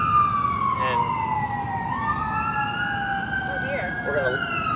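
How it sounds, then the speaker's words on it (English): Emergency vehicle sirens wail past outdoors, several overlapping rising and falling tones sweeping continuously over a steady traffic rumble, with a brief word of talk over them. "we're gonna listen to the sirens go by for a few moments"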